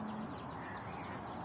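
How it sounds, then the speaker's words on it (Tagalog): Several chickens cluck in a morning farmyard while foraging for food, their soft calls repeating steadily over a continuous hum of outdoor background noise. "Hi, chickens!"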